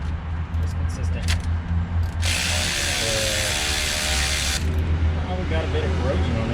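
A ratchet wrench turns 10 mm bolts on a 2002 Chevy Tahoe, a steady fast clicking run for a couple of seconds close by, with someone talking around it.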